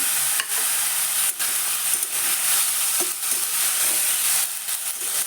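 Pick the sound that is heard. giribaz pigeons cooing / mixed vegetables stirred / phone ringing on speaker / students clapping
mixed vegetables stirred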